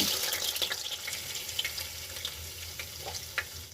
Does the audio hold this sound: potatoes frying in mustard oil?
yes